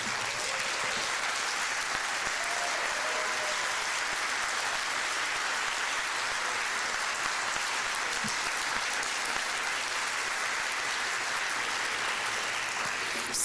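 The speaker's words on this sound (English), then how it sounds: "let's all give you a round of applause" Sustained, dense applause from a large crowd at a summer music camp concert, steady and even in loudness throughout with no pauses.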